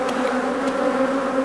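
A honeybee swarm at a hive produces a steady, close, humming buzz that holds at an even pitch throughout, with no voices.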